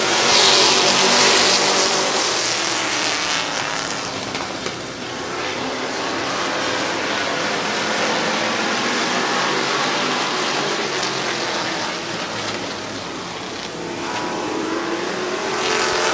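Race cars roar off at the start of a speedway race at Midvale Speedway, a loud, dense engine din that swells, dips and surges again as the field accelerates past.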